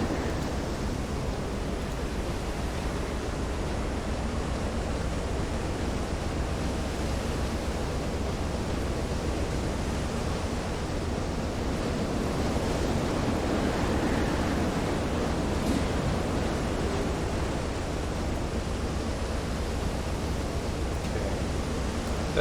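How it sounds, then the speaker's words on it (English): A U-boat plows through heavy seas in Silent Hunter 3, a broad, constant roar of surging waves and rushing wind with a deep rumble beneath, steady and loud throughout with no talk. "The whole boat is groaning and creaking, plowing through these waves."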